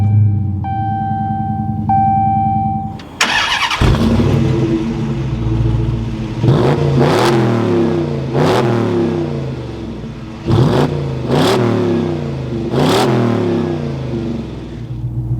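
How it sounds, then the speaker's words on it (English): A 2022 Dodge Challenger R/T Black Top V8 with a manual gearbox cranks over and fires up loudly after a few dash chimes, then settles into a rumbling idle broken by several sharp throttle blips, heard up close from the cabin. "keeping my foot on the clutch, we can go ahead and fire it up."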